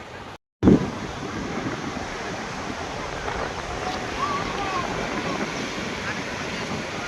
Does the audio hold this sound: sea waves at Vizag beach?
yes